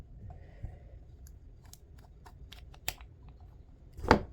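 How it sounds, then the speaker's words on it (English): Small clicks and scraping ticks come from unscrewing the magnetic tail cap of a Wuben E7 headlamp, close and quiet, with a sharper snap near the end as the cap comes free. "we can unscrew our magnetic cap"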